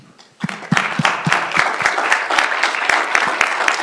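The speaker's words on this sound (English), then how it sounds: "we'll just give you another big round of applause." Applause at a city council meeting for an Employee of the Month, starting from quiet and building quickly into brisk, close, rhythmic clapping from a modest group that continues to the end.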